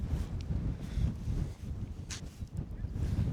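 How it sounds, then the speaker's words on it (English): Coastal wind at a Mendocino beach lookout near a lighthouse, a faint gusty rumble buffeting the microphone in uneven surges, with no clear talk over it. "A little bit windy."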